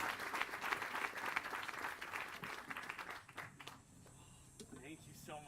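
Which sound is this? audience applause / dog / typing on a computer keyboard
audience applause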